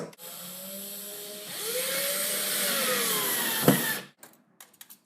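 A power drill drives screws into the corner of a wooden storage compartment on a step stool. The motor whines steadily and rises in pitch, then a sharp knock sounds, and a few small clicks follow after it stops.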